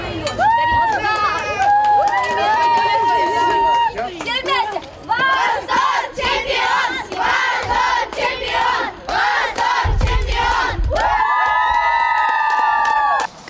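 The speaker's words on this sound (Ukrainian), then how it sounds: "Переможців у рідному Павлограді зустрічали оваціями." A crowd in Pavlohrad welcomes returning winning athletes with loud, excited shouting and cheering, many voices rising and overlapping in bursts, with brief pauses and a low rumble partway through.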